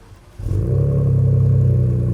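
A Ford Bronco's 2.7 engine breathing through an exhaust with a basher guard tip fires up after a brief quiet moment, then settles into a deep, steady rumbling idle with a low throb close by.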